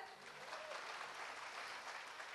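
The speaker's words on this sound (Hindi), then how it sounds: "ताली बजे इस पर" Steady audience applause, a dense wash of clapping filling the whole stretch at an even level, with no distinct voices standing out.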